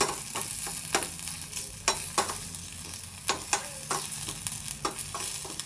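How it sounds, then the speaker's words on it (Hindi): Chopped ginger fries and is stirred in a pan until reddened, a steady close sizzle broken by repeated sharp scraping knocks of the spoon against the pan, with no voices. "अब जो अदरक काट के हम लिए हैं उसको डाल लेंगे इसमें। इसे अच्छी तरह से हमें पका लेना है, बिल्कुल लाल करके पका लेंगे हम।"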